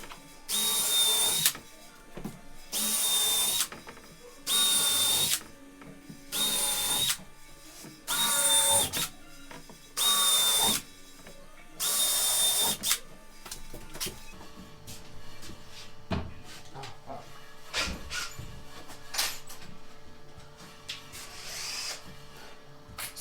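A power drill drives screws and pre-drills holes into King Starboard polymer panels during a build on a Stewart & Stevenson LMTV overland expedition truck, with seven loud, regular bursts of whirring, followed by quieter clatter and handling noises.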